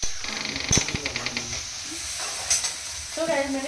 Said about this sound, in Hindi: प्याज तेल गरम हो चुका है, तो मैंने प्याज फ्राई करने के लिए प्याज डाल दी है